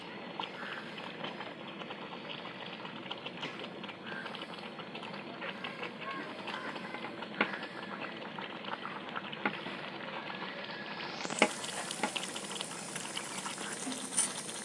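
Chicken meat for biryani frying in a pan gives a dense, continuous crackling sizzle close by, with scattered clicks and scrapes of stirring throughout.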